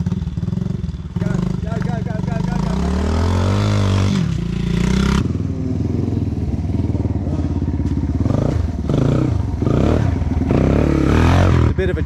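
Gen 1 solid-axle Toyota 4Runner engine driving off-road on Kumho mud tyres, a steady loud low drone with revving swells and clattering, close by, with people talking over it throughout.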